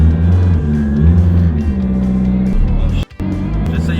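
A 1000HP Mitsubishi Evo with anti-lag runs loud and close on a cold day, its engine droning and shifting pitch while driving, with a brief sharp dropout near the end.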